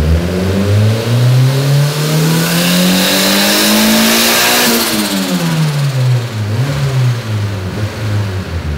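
Honda B18 turbocharged engine, non-VTEC, revving hard and loud up to a high peak around the middle before dropping back, then blipping again, with turbo whoosh riding over the rising engine note.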